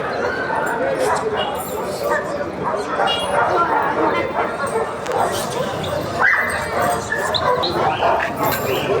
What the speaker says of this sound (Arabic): الكلاب اللي موجودة في السوق